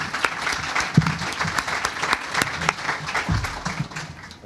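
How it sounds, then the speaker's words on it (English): An audience at a panel talk on orphaned oil wells breaks into steady applause, many hands clapping together for several seconds. "Let's give them a round of applause."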